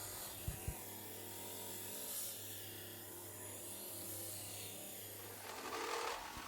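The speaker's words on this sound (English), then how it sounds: "I cut the shape out and rounded the corners on the disc sander." A disc sander rounding the corners of a wooden picture frame, a steady low motor hum with faint grinding of wood against the abrasive disc, swelling slightly near the end.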